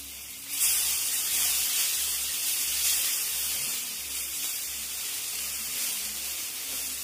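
Chili powder and ginger-garlic paste fry in a pan, giving a steady, moderately loud hiss and sizzle that runs unbroken throughout without any talking.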